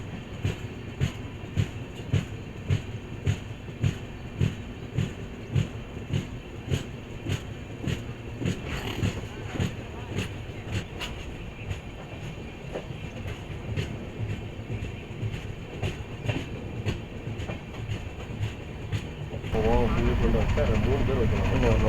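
Lalbagh Express train running flat out at 130 km/h, with a steady rhythmic clatter of wheels over rail joints and a loud continuous rumble heard from on board, the noise swelling louder near the end.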